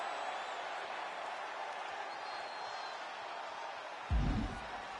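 A wrestling arena crowd in WWE 2K25 roars as a continuous broad murmur, fairly loud and steady throughout, ending with a short heavy thud near the close.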